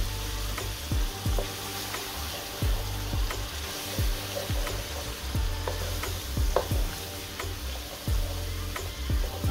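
Masala with tomato paste fries in a pan with a continuous sizzle, punctuated by repeated scraping, ticking stirs of a spoon against the metal at an uneven rhythm, close and moderately loud, with no talking.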